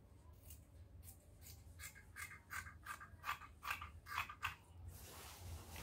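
Scissors cutting through ankara fabric for a box top, a series of crisp snipping crunches in steady rhythm, close and clear with a short quiet tail.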